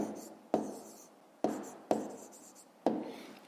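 Marker or chalk strokes on a classroom board during a fifth-grade math lesson, four distinct scratchy bursts at steady intervals, close and fairly quiet, with no talking.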